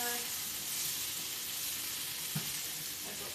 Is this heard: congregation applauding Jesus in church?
no